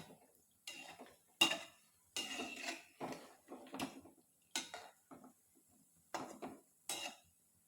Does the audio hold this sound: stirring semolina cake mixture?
yes